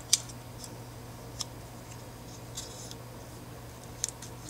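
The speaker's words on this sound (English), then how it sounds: "I really like these scissors." The small scissors of a Gerber Fit pocket knife are handled, giving a few faint metallic snips and clicks spaced apart over a quiet background hum.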